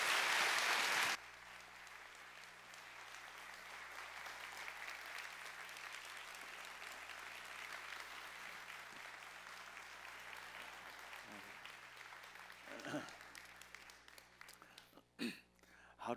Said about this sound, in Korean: 우리 큰 박수로 우리 모시도록 하겠습니다.